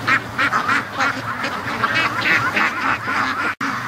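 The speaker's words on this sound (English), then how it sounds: "the ducks freaked out and they all doubled back" A flock of free-range ducks quacks busily and continuously at close range, many overlapping calls in quick bursts.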